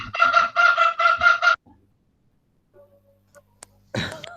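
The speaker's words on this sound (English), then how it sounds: "Are you slaughtering some chicken?" Chickens cluck and squawk loudly in a rapid run of bursts close by, breaking off into near silence with a few faint taps, then another loud squawk at the end, heard during a geometry lecture.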